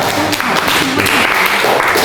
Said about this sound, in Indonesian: Oke, tepuk tangan untuk kelompok 3 ya.